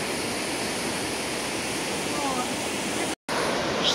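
Gollinger Waterfall in Austria roars with a dense, steady rush of water crashing down close by, broken only by a brief dropout near the end.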